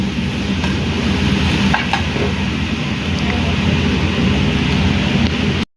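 Bean sprouts for lumpia are sautéed in a pan, giving a continuous close sizzle and crackle with faint scraping of stirring throughout, steady until it cuts off at the end.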